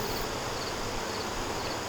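Bees buzzing around an open hive during a hive inspection, a dense, continuous hum of many insects, faint and steady throughout, with no talk.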